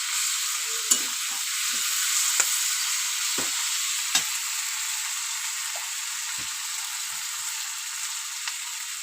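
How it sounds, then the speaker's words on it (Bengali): Cabbage fries in a pan with a continuous close hiss of sizzling, punctuated by occasional soft scrapes and clinks of stirring, with no voices. "একদম সহজ পদ্ধতিতে বাঁধাকপি রান্না করছি আমি আজকে।"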